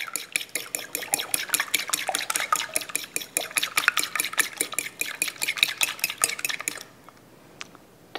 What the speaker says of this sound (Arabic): نخفق البيض